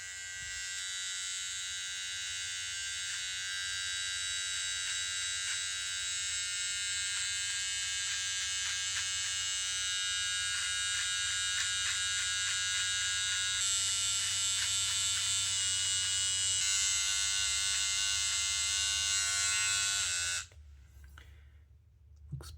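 A professional electric beard trimmer buzzes steadily while trimming a mustache, the close high whine running about twenty seconds before switching off abruptly.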